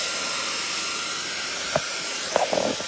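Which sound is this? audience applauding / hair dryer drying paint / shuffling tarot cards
hair dryer drying paint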